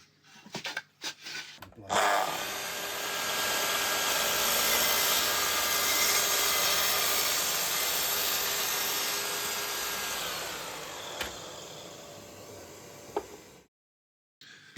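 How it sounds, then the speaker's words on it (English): A miter saw cuts a wooden board to length for a kitchen cookbook stand, a few clicks and then a loud whining blade buzz for about twelve seconds before it cuts off, close up. "I'll take it over to the miter saw and cut it down to size."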